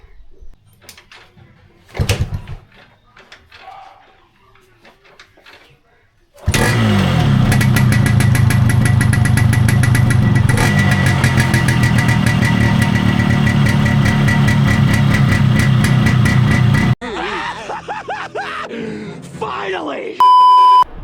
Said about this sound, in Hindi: अभी हम करेंगे बाइक को स्टार्ट।